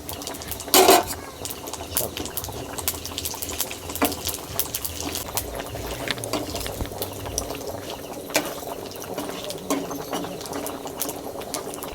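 Panch phoron, bay leaf and dried red chillies fry in hot oil for a tempering for dal, giving a steady crackling sizzle with scattered pops and a sharp clatter near the start.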